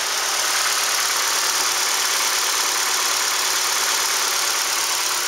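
A front-damaged 2012 Ford Fusion SEL with a 2.5 engine and automatic transmission idles steadily at a salvage yard, giving an even, unbroken mechanical hum and hiss with no voices.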